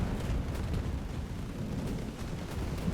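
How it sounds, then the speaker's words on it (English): Artillery fire in the strategy game Global Conflagration rolls as a sustained, dense, booming barrage of distant blasts at moderate volume, with no voices over it. "And then the artillery"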